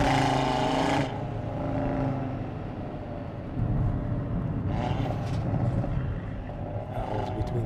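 A 2018 Audi RS3 Quattro engine in dynamic mode shifting from second to third gear, a loud steady engine drone with a brief drop in pitch around the shift, heard from inside the car with no talking.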